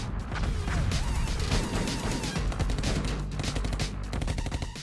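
Rapid cartoon gunfire in an animated game scene, a loud dense volley of shots and impacts packed together over a few seconds, layered with music or effects and no talk.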